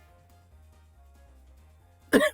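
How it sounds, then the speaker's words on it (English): A single sharp cough bursts out near the end, loud and close, after a couple of seconds of quiet room hum. "Cough."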